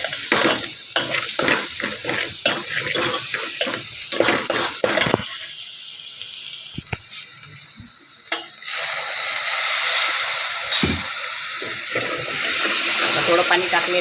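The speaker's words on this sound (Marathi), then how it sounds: "थोडं पाणी टाकलेलं आहे मी." Water is added to a pan of cooking masala while making a Marathi jackfruit-seed vegetable dish. A person talks at first, then a steady loud hiss and sizzle rises from the pan and carries on to the end.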